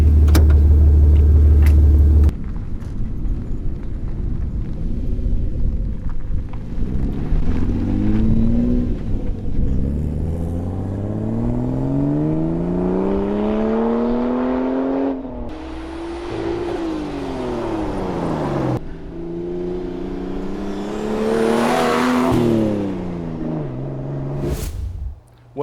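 A Toyota FJ40 Land Cruiser fitted with a turbo Barra engine accelerates hard through several gears, loud and close, with each rising howl cut by shift breaks and a turbo whistle near the end.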